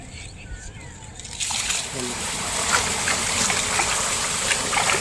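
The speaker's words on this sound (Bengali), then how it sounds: "এদিকে জলটা ছেড়ে দেবো" Irrigation water gushes and splashes into a dry farm field plot, a steady rushing wash that swells louder partway through, with a voice talking over it close by.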